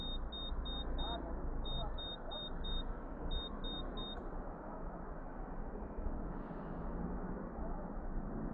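A Honda ADV 160 scooter's alarm sounds in repeated groups of short, evenly spaced high beeps, about four per burst, over a steady low rumble before falling silent.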